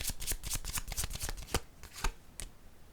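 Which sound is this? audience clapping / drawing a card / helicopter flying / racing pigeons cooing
drawing a card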